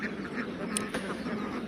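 Khaki Campbell ducks quack softly in the background on a farm, a few faint calls over a steady low hum.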